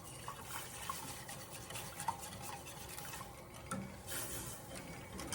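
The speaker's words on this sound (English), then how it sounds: "stirring it around" Cream gravy being stirred in a pan, a soft continuous scraping and swishing with faint liquid bubbling, steady and close, no talking.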